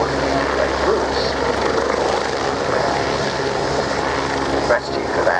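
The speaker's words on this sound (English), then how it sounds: "Now, it's a helicopter" A helicopter flies at the RAF Cosford air show, its rotor and engine making a loud, steady drone that holds for several seconds with a slight dip near the end.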